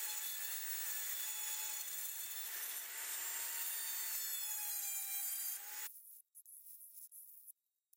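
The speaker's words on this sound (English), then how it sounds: "I reshaped the blade slightly using a Dremel grinder" A Dremel grinder reshapes a forged dagger blade with a steady high rasping whir for several seconds, then stops abruptly, leaving faint scattered handling noise.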